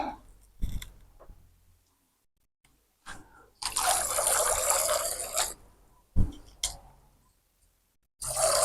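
Water poured into a container to fill drinkers for broiler chickens, a couple of seconds of steady splashing pour up close, between short knocks, drips and quiet pauses.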